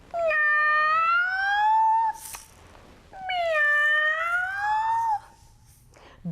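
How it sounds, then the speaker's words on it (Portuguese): A cat meows twice, long loud drawn-out cries with a brief pause between them, close and clear. "Dois gatos enormes que saíram correndo atrás dos ratinhos"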